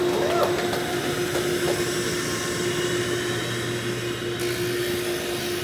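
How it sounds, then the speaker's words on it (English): Pipe maker's workshop with a vacuum cleaner running steadily alongside a grinding wheel, a constant whirring drone with a sustained tonal hum, loud and close, no talking. "It's mostly just a vacuum cleaner and a grinding wheel."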